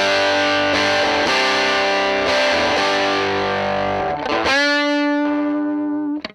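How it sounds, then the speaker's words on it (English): Distorted chords ring out on a solid-body Les Paul electric guitar, struck several times in a loud, sustained wash before a final chord rings on with long sustain, no voices. "if you hit this with some distortion"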